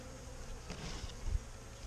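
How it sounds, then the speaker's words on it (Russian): Honeybees buzzing at a hive during winter nest reduction and mite treatment, a steady near drone with a slight swell in intensity partway through and no voices. "Пчелки злые"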